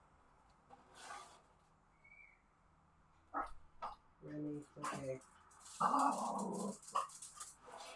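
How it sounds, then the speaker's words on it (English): A dog barks and growls indoors at children heard outside, a few short sharp bursts spread through the stretch, with a person talking nearby between the barks. "whenever he hears kids outside, he likes to start barking"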